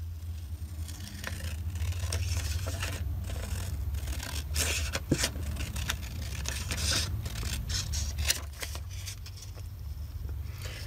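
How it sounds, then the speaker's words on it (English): Scissors cutting paper along drawn lines for a journal tag, with soft repeated snips and rustling paper close by over a low steady background hum. "So I'm going to cut along these lines."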